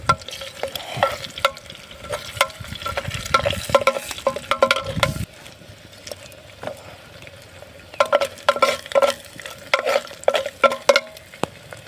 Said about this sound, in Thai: ผมจะผัดผักบุ้งก่อน